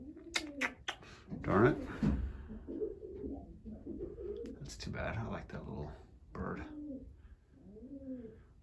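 Young racing pigeons make soft, low coos in short, warbling phrases close by, mixed with someone talking.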